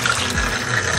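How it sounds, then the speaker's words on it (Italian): A generous stream of water pours steadily into a container of rinsed aromatic herbs, a close, continuous splashing gush with no voices. "Sciacquiamo il nostro contenitore, le rimettiamo dentro, riandiamo con un bel po' di acqua"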